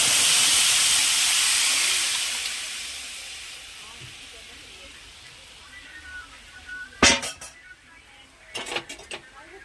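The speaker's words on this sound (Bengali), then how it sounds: "তো আমি এখন আমগুলাকে ঢেলে দেব," Mangoes poured into a boiling pot, giving a loud steamy hiss that fades over a few seconds, followed by clinking pot and utensil knocks near the end.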